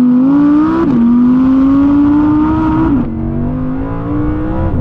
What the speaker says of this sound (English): here's a quick montage of some Audi R8 V10 rear-wheel drive noises